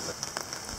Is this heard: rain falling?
yes